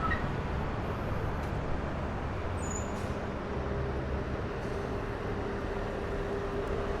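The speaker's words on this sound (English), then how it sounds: "lot of cars on Lexington Avenue here." Cars rolling along Lexington Avenue at 42nd Street in midtown Manhattan, a steady dense wash of traffic rumble that holds at an even level throughout, with no single vehicle standing out.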